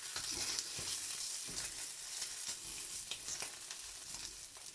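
Sausage (linguiça) fries in a heating frying pan, a continuous bright sizzle with crackling pops and occasional stirring scrapes, close and alone with no voices.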